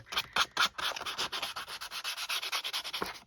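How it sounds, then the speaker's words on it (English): Sandpaper rubbed along paper edges of a handmade envelope journal page: a steady run of quick, soft scratchy strokes, close and fairly quiet, with no voices. "I will sandpaper my edges."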